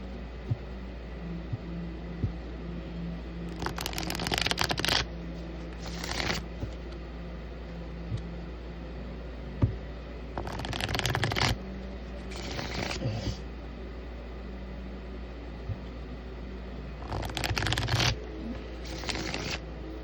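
Tarot cards shuffled in three distinct bursts of riffling, each a second or two long, spaced several seconds apart over a low steady hum.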